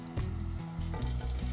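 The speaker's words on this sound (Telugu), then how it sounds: "ఇప్పుడు ప్యాన్లో 4-5 స్పూన్ల ఆయిల్ వేసుకుని తాలింపు వేసేసుకోండి" Dried red chillies tempering in four to five spoons of hot oil in a pan give a close, steady sizzle broken by a few soft knocks and scrapes.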